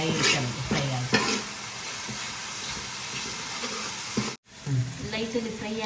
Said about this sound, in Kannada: ಜಿಂಜರ್ ಗಾರ್ಲಿಕ್ ಪೇಸ್ಟ್ ಹಾಕೋಣ. ಎಲ್ಲ ಸ್ವಲ್ಪ ಫ್ರೈ ಆಗಲಿ, ಲೈಟಾಗಿ ಫ್ರೈ ಆಗಲಿ.